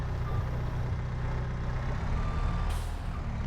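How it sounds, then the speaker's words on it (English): Steady rumble of a Massey Ferguson telehandler in a farming video game, with a reversing beep tone and a hiss like an air brake release near the end; no talk. "I do love this Massey Ferguson telehandler"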